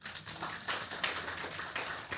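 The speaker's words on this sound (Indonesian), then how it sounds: "Tepuk tangan yang keras." A congregation at a church service applauds in a steady, fairly faint patter of many hands clapping together, with no voices.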